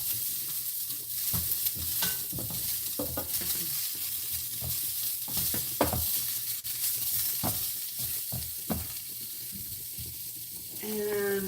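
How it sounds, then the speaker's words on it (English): Chicken marsala sizzles in a pan while a utensil stirs it, producing repeated scraping strokes over a continuous frying hiss, heard close up with no talking. "Give it a good stir."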